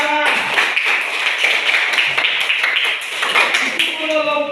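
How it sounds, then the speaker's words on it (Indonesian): Children clapping their hands together in a classroom, a brisk, steady patter of many claps close by, with bright voices mixed in. "Baik, tepuk tangan."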